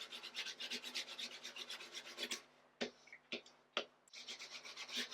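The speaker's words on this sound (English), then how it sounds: "So just take your hands over it and rub it down." Foil is rubbed down by hand over a stencil, giving soft, dense scratchy rubbing in quick repeated strokes, close but quiet, broken by a short pause with a few light taps.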